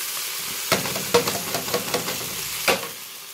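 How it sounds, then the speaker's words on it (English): A tin of tomatoes goes into a pan of toasted spices for a lamb Indian curry. It gives a hissing sizzle broken by several sharp stirring clatters, close and moderately loud. "So in goes now our tin of tomatoes."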